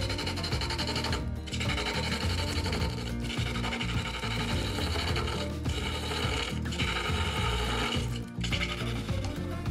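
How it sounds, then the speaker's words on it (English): A cherry log spins on a wood lathe as it is turned round to shape a decorative Christmas tree, giving a steady, loud rasping and rubbing scrape that runs throughout with brief dips where the tool lifts off. "I'm just trying to turn the log round"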